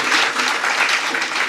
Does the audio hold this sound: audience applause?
yes